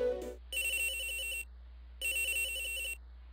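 A telephone in the Ace Attorney Investigations 2 video game rings twice in electronic trilling bursts separated by a pause, loud and clear with no talking.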